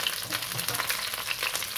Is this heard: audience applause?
no